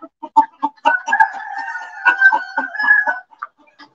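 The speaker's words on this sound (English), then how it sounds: "We gotta go visit Rusty Rooster in here. Being awful noisy." A rooster crows loudly and close by in a barn at an auction, with short clucks sounding before and after the long crow and no talking.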